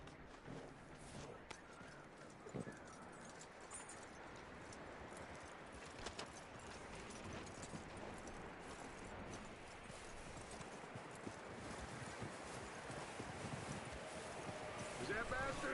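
A horse's hooves clip-clop steadily through a Red Dead Redemption game scene, quiet and continuous under faint ambient wind, with voices talking over it at times.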